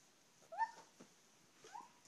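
A small child imitates a cat with two short, high, squeaky mews about a second apart, faint and close in a quiet room, with a soft click between them.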